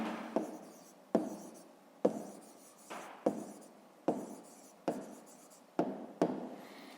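A pen scratches across paper while an answer to a school math exercise is written down, about nine quick strokes in a steady rhythm, each starting sharply and fading, close and clear with no talking.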